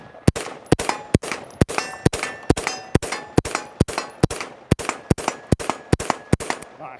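A rifle fires rapid shots at three steel targets about 50 yards away, sharp cracks in a steady rhythm of roughly two per second, each followed by a ringing metallic clang from the struck steel, loud and clear with no talk.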